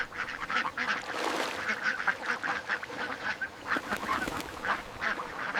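A flock of magpie ducks on an American farm quacks continuously in overlapping, rhythmic calls, fairly faint and at middle distance, with no talk over them.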